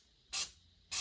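Cooking oil is sprayed onto an egg sandwich maker in two short, sharp hissing bursts, close up and loud against otherwise quiet surroundings.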